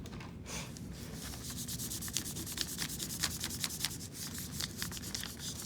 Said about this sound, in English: So I'm rubbing all around to find the textures, like a little scavenger hunt underneath too.